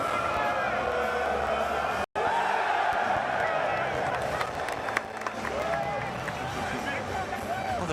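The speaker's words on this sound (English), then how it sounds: "will get a big cheer" A stadium crowd roars, cheers and applauds steadily at an Arsenal title celebration on a hot early evening, with a commentator talking over the dense, continuous noise.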